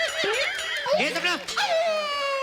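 A voice imitating a crying, whimpering dog in a Hindi comedy sketch, wavering howls and yelps in a short close burst that stands alone.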